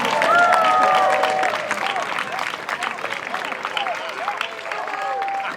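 A street-carnival crowd at the Grosse Parpaing Parade in Lille applauds a bronze award winner, sustained clapping and cheering with scattered whistles, loud and near, with a voice talking over it.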